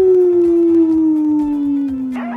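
A voice imitates a howling mangy dog with one loud, sustained, slowly falling howl up close that breaks off at the end, with no other sound behind it.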